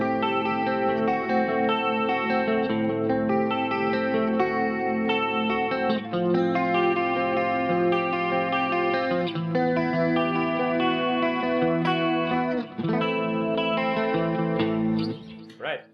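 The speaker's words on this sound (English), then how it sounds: "which is a compressor, a chorus, and a short delay. And this is my clean sound." Clean electric guitar played through a compressor, chorus and short delay on a multi-effects unit, ringing out sustained chords and picked notes with a shimmering, wide tone, continuous and fairly loud until it fades at the end.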